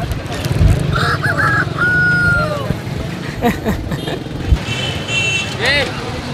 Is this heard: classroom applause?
no